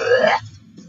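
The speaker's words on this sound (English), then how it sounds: "a guy belts out his heavy metal belch" A man lets out a loud, drawn-out belch with a raspy, growling tone, lasting under half a second before cutting off into near silence.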